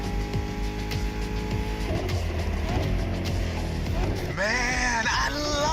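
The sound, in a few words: muscle car engine in video game The Crew Motorfest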